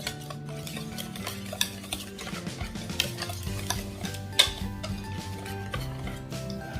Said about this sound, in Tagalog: Haluin lang natin siya ng haluin.